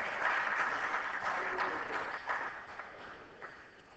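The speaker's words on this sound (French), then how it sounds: "Monsieur Drolet, je vous applaudis." Modest applause in a legislative assembly session for the minister, fairly quiet clapping that starts fuller and thins out over a few seconds.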